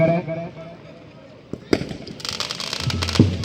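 Diwali firecrackers go off: a sharp bang, then a flurry of crackling pops and bursts, with faint voices in the background.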